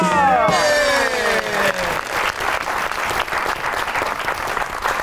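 Studio audience at a Pakistani comedy talk show breaks into loud, sustained applause for guest Naveed Nashad, following a brief swell of musical tones at the start.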